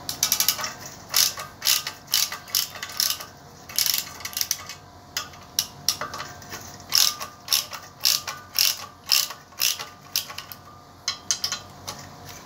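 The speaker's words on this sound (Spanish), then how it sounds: "Vamos a empezar aflojando los cuatro tornillos que tienen el ventilador." A ratchet wrench loosens the four fan screws on the water pump of a Torino 7-main-bearing engine, giving steady bursts of rapid metallic clicking in a regular rhythm, close and clear, with no talking.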